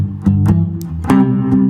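Blues guitar shuffle in a quick-change rhythm, played as a lesson example: a few strummed chords with sharp attacks and sustained harmonic tones, fairly loud and close, with no talking.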